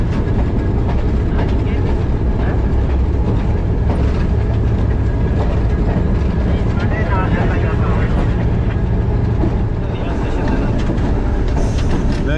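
The Millat Express rolls along the rails past canals on the Lala Musa to Sargodha line, heard from the cab. A loud, steady, close rumble with faint clatter runs unbroken throughout, and someone talks over it.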